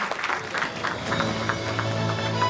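An audience claps at a best-student awards ceremony, a brief burst of steady, moderately loud applause from a hall crowd.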